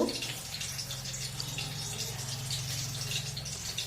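Water poured into a spice paste, giving a steady, faint trickling splash that continues throughout over a low background hum.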